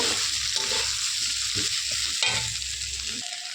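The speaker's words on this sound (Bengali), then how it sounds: "এখন আমি দিয়ে দিচ্ছি সেই ডালগুলো, যে ডালগুলো আমি ভেজে রেখেছিলাম, ডালগুলো দিয়ে ভালোভাবে একটু নেড়ে চেড়ে নেব" Fried vegetables and lentils for khichuri stirred in a pan, with steady close sizzling and repeated scraping strokes of the spoon.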